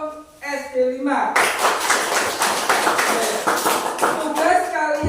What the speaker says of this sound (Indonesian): tepuk tangan dulu untuk SD 5.